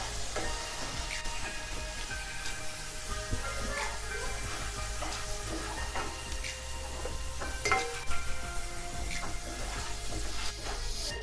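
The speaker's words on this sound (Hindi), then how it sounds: "आलू अभी बिल्कुल हो गया है, अच्छी तरीके से फ्राई हो चुका है" Potatoes frying in hot oil for matar nimona give a steady, close sizzle throughout, with occasional crackles and light stirring clinks over the constant hiss.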